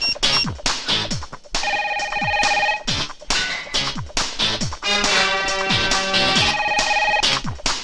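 A telephone rings in a Telugu film scene, an electronic ringtone repeating in bursts of bright, warbling tones with brief gaps, loud and close with no talk over it.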